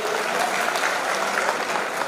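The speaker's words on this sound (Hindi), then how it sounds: "के लिए जोरदार एक बार ताली हो जानी चाहिए" Loud, sustained applause from an audience at a radio listeners' convention, many hands clapping evenly throughout without a voice over the top.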